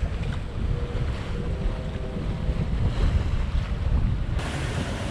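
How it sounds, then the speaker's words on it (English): Gusty wind buffets a Hallberg-Rassy 54 sailboat leaving Montego Bay, Jamaica, roaring steadily over the microphone with rushing water and waves beneath, continuous and loud throughout. "the wind accelerates around the island. It's very gusty."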